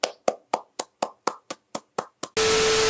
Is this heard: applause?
yes